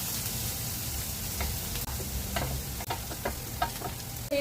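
Shredded chicken frying in a pan for chicken pastil gives a steady, moderate sizzle with a few sharp spatula scrapes and clicks scattered through it, and no voices.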